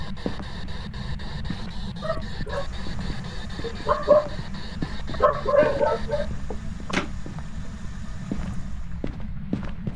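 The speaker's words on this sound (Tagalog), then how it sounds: "natakot ako sa aso." A dog barks in the Phasmophobia ghost-hunting video game, giving a few short yips in the middle over a steady low background hum.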